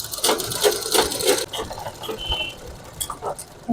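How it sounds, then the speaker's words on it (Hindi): A sewing machine stitches a suit lining in short, fairly faint bursts of rapid mechanical clatter, with pauses and small handling noises between runs. "इस तरह से फोल्ड करने के बाद सिलाई लगा लेनी है हमें।"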